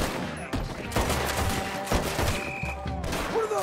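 Rapid gunfire from a Red Dead Redemption 2 shootout in Saint Denis crackles close and loud, with repeated overlapping shots in bursts throughout.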